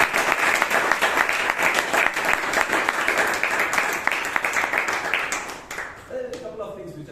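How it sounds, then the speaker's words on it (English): Audience applause fills a Toastmasters meeting in Bangalore, dense steady clapping from a crowd that holds loud for about five seconds, then thins out and fades near the end. "I think she deserves a real good round of applause."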